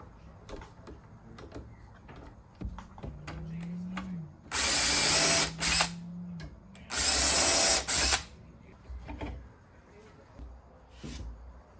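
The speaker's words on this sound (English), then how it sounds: "I also use a jig to pre-drill the holes for the hardware on each drawer front." A power drill bores hardware holes in the fronts of 50-year-old drafting drawers through a jig, two loud sustained bursts after a short motor whir, with knocks and handling noises around them.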